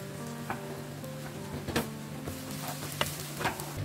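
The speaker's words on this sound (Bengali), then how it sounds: "পেঁয়াজটা আমি ব্রাউন করে ভেজে নেব" Onions frying in mustard oil in a pan for chicken biryani, a steady close sizzle broken by a few sharp stirring scrapes, with no talk.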